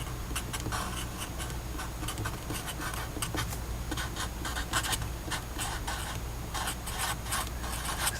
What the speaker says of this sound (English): I'm going to draw a solid vertical line